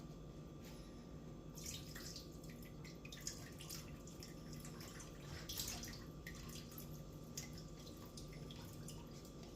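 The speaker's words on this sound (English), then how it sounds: "I'm going to drain the water, steady, because I don't want no water in there." Water drains steadily in a kitchen during meal preparation, heard as a faint, continuous trickle with scattered light drips.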